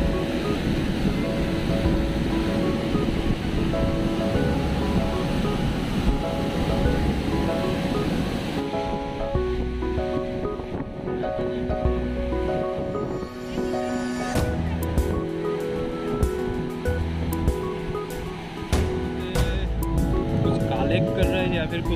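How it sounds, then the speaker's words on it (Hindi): Sea waves surge and crash against the shore at Bandra Fort in Mumbai, a steady, loud wash of surf and wind. Midway through, the roar thins out and other tonal sounds and voices come in over it. "पानी का लहर है।"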